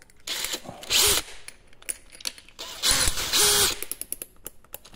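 A DeWALT DCD 791 cordless drill driving a screw into wood in second gear, with two bursts of whirring motor and ratcheting clutch, each about a third of a second long, between quieter clicks and handling noise.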